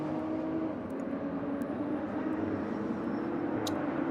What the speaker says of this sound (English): just crossing the start-finish line